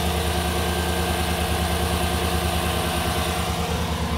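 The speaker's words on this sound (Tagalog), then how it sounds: "Engage na yung compressor." A car's air-conditioning compressor is engaged and running, heard as a loud, steady mechanical drone over the idling engine, unbroken throughout with no voices.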